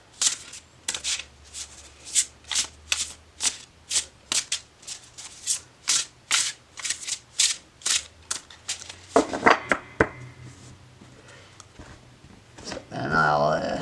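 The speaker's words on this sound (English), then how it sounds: "shuffle it some" A tarot deck is shuffled by hand in a steady run of crisp riffling bursts, close and fairly loud, followed by a brief mix of card handling and softer rustle toward the end.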